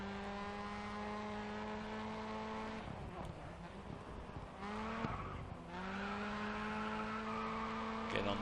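Race car engine in the GRID Autosport racing game roars steadily under acceleration, briefly dipping and stuttering mid-way with tire skids before climbing again into sustained high revs, loud and close throughout.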